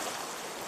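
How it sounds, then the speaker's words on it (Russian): A small mountain stream flows at Planchesky Shchel in the Seversky district, Krasnodar region, a brief steady rushing wash of water heard close and alone. "Небольшой ручей, который впадает в эту реку."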